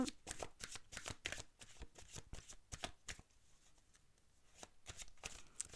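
Cards are shuffled close up in quick riffling bursts and soft slaps, a busy stretch first, then a brief quieter pause before the shuffling resumes.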